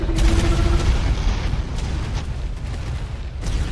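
Heavy bombardment explosions in the video game ARK, a continuous loud rumble of booms and bursts running through the whole stretch with no clear gaps.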